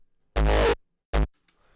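A resonant synth layer made in Serum sounds in two short bursts, the first longer than the second, loud and bright against silence, with no voices.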